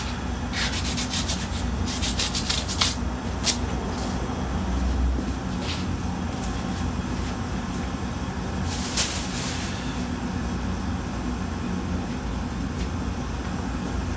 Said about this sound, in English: Now we want to trim off that excess foam. There's a sharp knife for trimming that off.